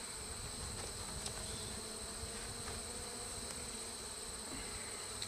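Honeybees at an open modified Warre hive produce a constant dense buzzing hum, steady and fairly close throughout, with no voices.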